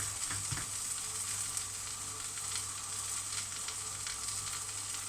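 Thai fermented soybeans (thua nao) grilling over heat and turned often, for a salted-fish chili paste; a steady, close sizzling hiss runs throughout with no talking.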